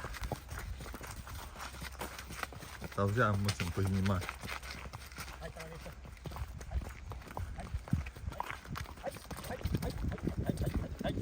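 Horses' hooves clip-clop on hard ground in an uneven rhythm in a village in Ivano-Frankivsk region, Ukraine, while people talk nearby and birds call faintly.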